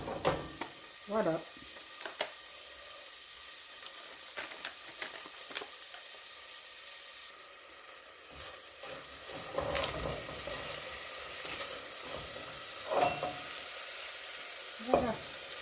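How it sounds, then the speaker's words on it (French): Small lardons browning in a pan give off a continuous fine sizzle and hiss, with scattered clicks and scrapes of stirring throughout; the sizzle briefly softens midway and then picks up again. "C'est parti pour faire revenir les petits lardons."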